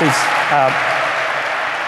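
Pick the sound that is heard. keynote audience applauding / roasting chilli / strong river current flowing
keynote audience applauding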